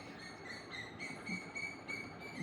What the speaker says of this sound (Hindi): सुनाई दे रहा होगा किस तरह से चिड़िया गा रही है